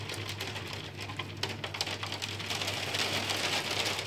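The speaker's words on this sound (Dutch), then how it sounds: "het is hagel en geen sneeuw" Hail pelting down outdoors, a dense continuous patter of small hard impacts that grows slightly heavier toward the end, with no voices.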